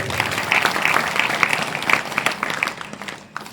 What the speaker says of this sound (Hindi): एक बार उनकी माता जी के लिए जोरदार ताली बजाई।